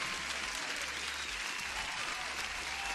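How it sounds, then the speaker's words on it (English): Steady, dense applause for a trader's winning short trade during a live futures day-trading session, a continuous wash of clapping lasting about three seconds with no voices over it. "Guys, applause to Methodical man."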